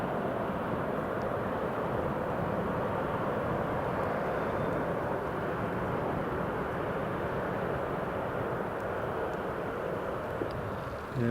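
A Ryanair airliner rolls out after landing at Newcastle International Airport and turns off the runway, its engines a steady, broad roar held at a constant level at moderate distance throughout.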